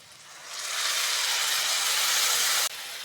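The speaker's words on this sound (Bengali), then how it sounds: "মশলাটা ভালো করে কষে নেবো" Spice paste of ground ginger, garlic, green chili, chili powder and turmeric with a little water sizzles steadily in a pan for crab curry, a loud continuous hiss that swells in and cuts off briefly near the end.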